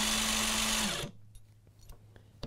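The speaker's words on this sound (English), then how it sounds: "I'll demonstrate that just by pulling the trigger here" DeWalt DCF899 half-inch cordless impact gun running on the trigger, a loud buzzing whir for about a second that stops sharply, followed by faint clicks and handling noise.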